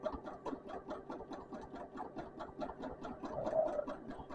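A sewing machine free-motion quilting a wandering pattern across the main body of a rail fence quilt, its needle running in a steady, fast rhythmic chatter close by throughout, alone without talk.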